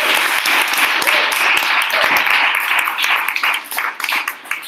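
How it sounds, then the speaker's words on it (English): Audience applause after a React capstone presentation, a steady dense clapping that fills the room loudly and starts to thin out toward the end. "let's give one more round of applause"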